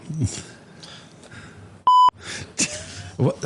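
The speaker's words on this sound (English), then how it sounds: "I was testing the bleep button" A single sharp censor bleep tone from a bleep button cuts in loud and clean for a fraction of a second, set between stretches of casual conversation and laughter at a Christmas gathering.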